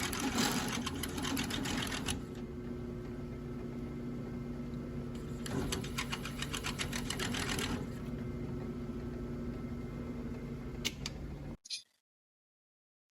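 A drill boring into a small metal O2 sensor spacer, a steady whirring drone with two louder bursts of cutting, ending abruptly in silence.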